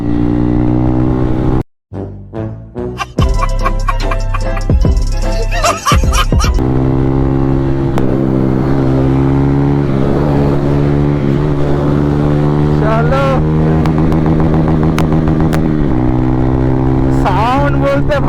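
A Bajaj Pulsar N160 motorcycle with a loud exhaust idles close by, then revs in sharp bursts before settling into a steady, throaty drone while riding, with a person speaking briefly over it.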